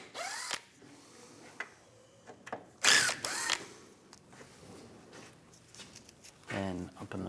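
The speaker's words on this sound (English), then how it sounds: "Now I'm going to use a T30 socket. Take all the screws out." A power tool fitted with a T30 socket backs screws out of the front bumper cover on a 2015-2019 Lincoln MKC, giving brief whirring bursts amid quiet handling noises.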